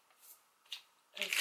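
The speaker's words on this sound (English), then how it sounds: "I'm just gonna rip this wrapping off" Plastic wrapping being ripped off a new MacBook Pro 14-inch box in Space Grey, two soft crinkles followed by a louder tearing rip at close range.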